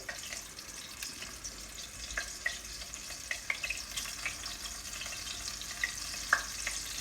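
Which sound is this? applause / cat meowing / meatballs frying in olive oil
meatballs frying in olive oil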